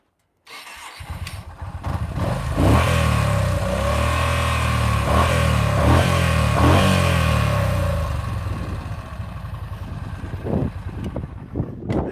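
A Ferris 400S riding mower engine cranks and catches, then revs loudly in rising and falling surges before settling into a rougher, uneven run, close by.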